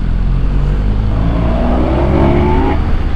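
A loud motorbike engine roars steadily close by, its pitch climbing as it revs up, with a strong low rumble throughout.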